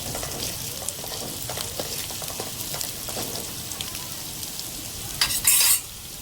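Onions frying in a pan while being stirred for a prawn curry gravy, a steady hiss of sizzling with soft scraping strokes throughout and a brief louder clatter near the end.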